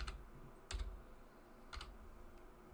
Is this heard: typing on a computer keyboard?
yes